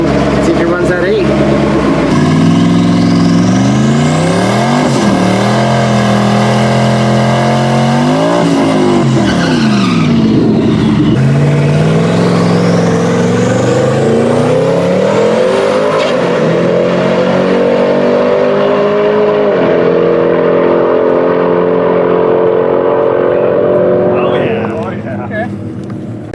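Twin-turbo S197 Mustang race car with an automatic swap launching and accelerating hard down a drag strip, its loud engine note climbing through repeated gear changes with tire squeal, sustained and close for most of the run before easing off.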